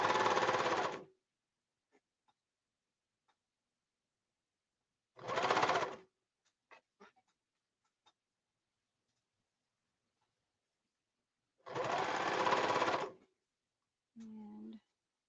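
A sewing machine stitches seams in three short, loud bursts of rapid whirring separated by silence, with faint handling clicks between runs.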